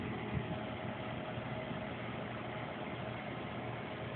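A Tanaka 505 backpack blower runs steadily after a cold start that took four pulls, its two-stroke engine holding a constant, fairly loud drone with an even texture and no talk throughout.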